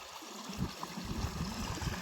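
Water from two pump motors pours into a shared stream, gushing steadily with a continuous broadband rush and low gurgling churn, close and fairly loud throughout.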